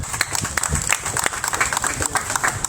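Crowd applause at an outdoor street protest in front of an office, steady scattered clapping from many hands at moderate distance, with background crowd noise and no clear speech.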